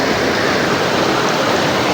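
Rushing water of Kabatuhan Falls and a clear stream among big rocks, a steady, loud, close broadband roar with no pauses.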